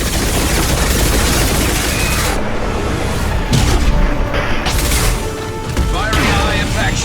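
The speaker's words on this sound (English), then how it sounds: "Firing high impact shot." Loud, dense volleys of high-impact gunfire in a video game aboard a quarantined ship, with booming shots and rapid bursts running almost continuously over about seven seconds.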